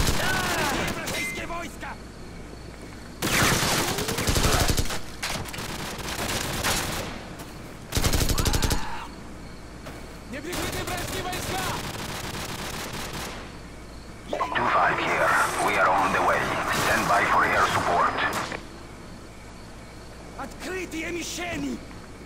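Call of Duty 4 gunfire on Veteran difficulty in the Safehouse mission: loud bursts of automatic fire come in several spaced volleys, including a long sustained barrage, with someone talking over and between the shots.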